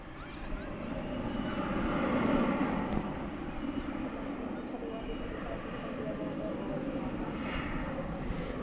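An American Airlines airliner landing on runway 18 right at Dallas Fort Worth airport at night, a loud broad engine roar swelling then holding steady, with voices and radio chatter over it.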